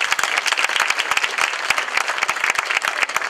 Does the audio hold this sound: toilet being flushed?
no